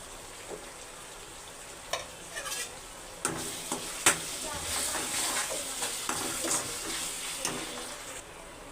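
Tomato rice mixture sizzles and hisses in a pan as it is stirred, with scraping clicks from the spoon over a steady frying crackle, fairly close and moderately quiet, with a little quiet speech.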